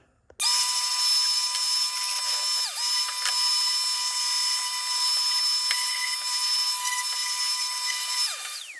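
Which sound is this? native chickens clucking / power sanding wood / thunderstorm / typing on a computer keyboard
power sanding wood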